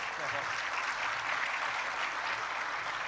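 An audience breaks into sustained applause at a public event honoring a kidnapping survivor, the clapping holding steady and loud throughout with a murmur of voices mixed in.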